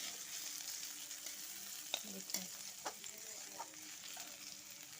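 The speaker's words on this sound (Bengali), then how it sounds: "লাল লাল করে ভাজা হয়ে গেলে" Potatoes frying in a pan for a mushroom curry give a soft, steady sizzle, with a few sharp spatula scrapes and clicks, fairly quiet and close.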